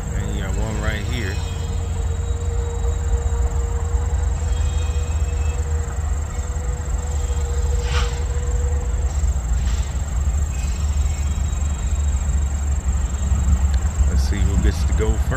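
Two westbound freight trains rolling through a busy rail yard make a continuous heavy rumble and hiss, with a faint sustained tone partway through and light clatter, as someone comments over it.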